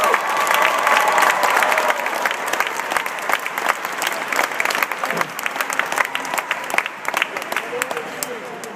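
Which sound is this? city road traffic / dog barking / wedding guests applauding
wedding guests applauding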